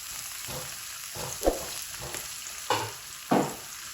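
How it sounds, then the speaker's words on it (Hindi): Green and red chili paste fries and sizzles in a pan, a steady hiss punctuated by a few sharp stirring scrapes, with no talking. "बस 1 मिनट हमने इसको फ्राई करना है।"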